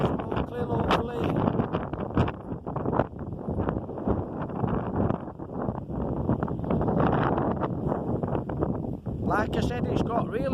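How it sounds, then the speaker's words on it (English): Strong wind buffets the microphone outdoors on a waterfall walk in the Peak District, a steady rushing roar with gusty swells throughout, while someone talks over it continuously. "it's got really windy now guys"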